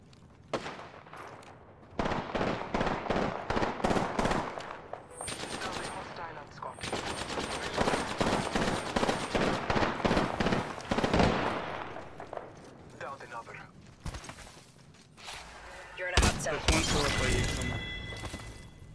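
Rapid automatic gunfire in a shooting video game, long loud bursts of shots with brief gaps, mixed with players talking over it.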